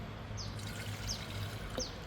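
Water poured into two glasses, a steady continuous splashing trickle throughout, soft and close, with faint chirps in the background.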